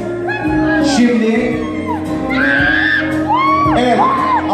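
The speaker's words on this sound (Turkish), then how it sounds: "Alkışlar durmuyor. Devam ediyor." Guests at an engagement party whoop, shout and cheer loudly and without pause, the crowd noise layered over a steady, sustained tonal backdrop.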